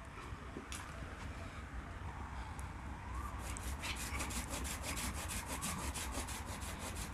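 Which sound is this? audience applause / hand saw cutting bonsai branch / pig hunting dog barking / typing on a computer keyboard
hand saw cutting bonsai branch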